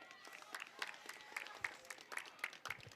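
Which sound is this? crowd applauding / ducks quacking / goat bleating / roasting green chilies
crowd applauding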